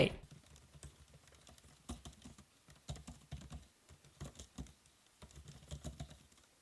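Rapid, light typing on a MacBook Pro 14-inch M4 Pro laptop keyboard close by, a steady patter of soft key clicks with brief pauses between bursts.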